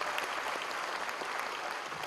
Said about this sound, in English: a special round of applause for all of them